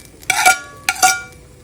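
Vegetables are tossed back into japchae glass noodles in a bowl or pan, two short bursts of clattering utensils and rustling, close and clear with silence between.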